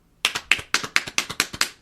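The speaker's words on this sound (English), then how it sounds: "We're going to clap now." A few people clapping on a talk call-in show: about eight quick, even claps in a steady rhythm, close and fairly soft, with no talk over them.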